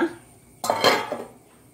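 A lid goes onto a pot of Tulunadu-style bottle gourd and bimbuli sambar, making two close metallic clanks about a quarter second apart in a quiet kitchen, with no talking.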